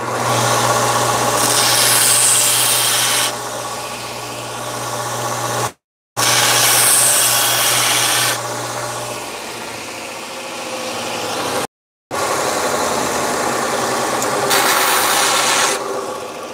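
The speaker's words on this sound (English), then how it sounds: "I'm just gonna quickly just grind just a quick chamfer on that" Power grinder cutting a quick chamfer on an axe head, three loud harsh grinding bursts separated by brief silences, the abrasive whine rising and easing within each pass, close up.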